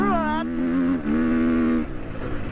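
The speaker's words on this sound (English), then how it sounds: "I'm going to continue shredding tyres in the hard stuff." A dirt bike engine screams at high revs on a hard-packed track as its tyres spin and shred. The whine holds steady, then falls away as the throttle eases off.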